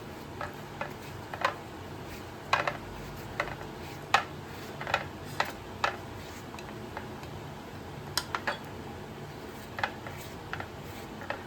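Knife cutting peeled musk melon into pieces for juice, scattered soft clicks and taps against a board, spaced irregularly and fairly quiet over a faint steady background hiss.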